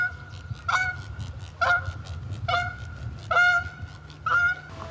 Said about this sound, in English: You'll find Canada geese out on this float as well.